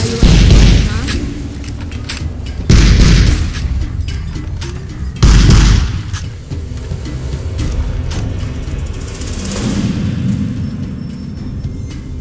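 Gunfire in the video game Fallout: New Vegas comes as three heavy booming shots several seconds apart, over a dense, continuous bed of game noise.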